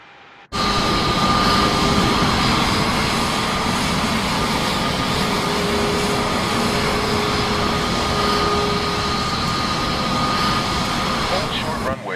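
Aircraft engines spin up in Microsoft Flight Simulator 2024, a steady droning whine with tonal hum that starts abruptly and holds at constant loudness, with a voice speaking over it.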